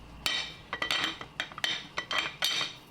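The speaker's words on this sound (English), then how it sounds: "you want to mix a little bit of the broth with this mixture" A spoon clinks against a bowl while broth is stirred into an egg mixture for Azorean chicken and rice soup. About eight quick, close metallic taps arrive in an uneven rhythm, with no talking.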